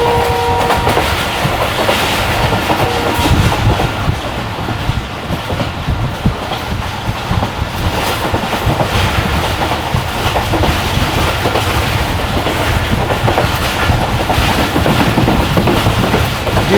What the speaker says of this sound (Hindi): ट्रेन की स्पीड काफ़ी अच्छी है जी